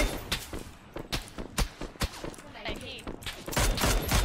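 Gunfire in a shooter video game, with sharp separate shots and short bursts cracking out at irregular intervals, some close and loud, mixed with game sounds and players talking.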